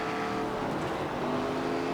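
A race car drives steadily in the video game NASCAR 25, its engine a continuous tonal drone with a faint hint of tire noise and no talk.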